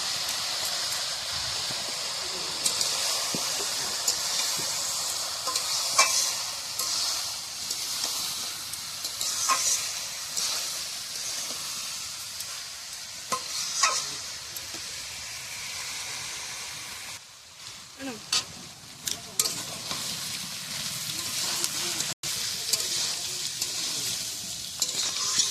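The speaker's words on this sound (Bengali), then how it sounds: "এবারে দেবো কাজু কিশমিশ দিয়ে দেবো" Cashews and raisins fry in hot oil in a home kitchen, giving a continuous close sizzle broken by repeated scrapes and clinks of a stirring spoon, with a short quieter break before the frying resumes.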